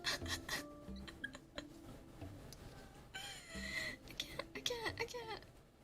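A cat scratches and rasps in its litter box indoors, a series of quiet irregular scraping bursts close by, while someone talks softly in between.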